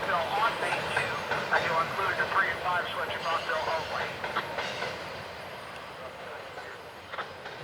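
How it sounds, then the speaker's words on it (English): An intermodal container freight train rolls across a viaduct at Harrisburg, Pennsylvania, its steady rumble and faint rail clatter sounding fairly close before slowly fading over the final seconds. "NS-22W hurries across the viaduct with intermodal for Rutherford, Pennsylvania, just a few miles east of here."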